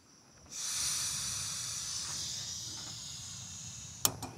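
A sudden strong rush of wind roars against the microphone at an overnight motorcycle campsite and holds steady as a loud hiss, followed by a couple of sharp knocks near the end.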